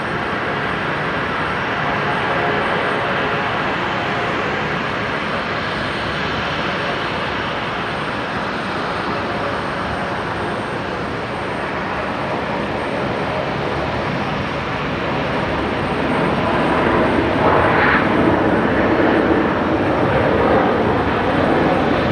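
A jet airliner at Brisbane Airport at night roars with a broad, steady engine rumble that swells louder toward the end, heard alone without talk.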